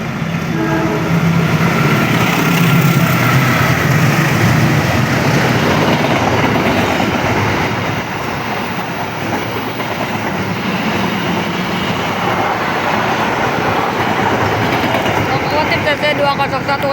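A CC201 diesel locomotive hauls the Airlangga passenger train past nearby, its engine roar and the rumbling, clacking wheels steady and loud throughout, with voices talking over it.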